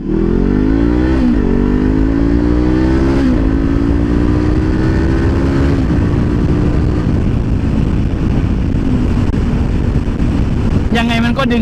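Honda CBR500R motorcycle pulling away in first gear, engine note climbing steadily through the revs under heavy wind rush, loud and close throughout, with a brief shift near the end.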